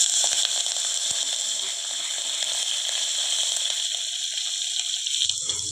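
Mustard seeds, dry red chilies and turmeric tempering in hot oil for a spinach pappu (palakura dal), giving a steady, close crackling sizzle that holds throughout with little break, ending in a brief clatter.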